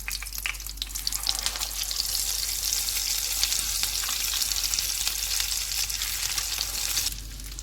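Shami kababs sizzle and crackle steadily in hot frying oil as they are turned over, a loud, continuous close-up hiss with small pops and scrapes that eases slightly near the end.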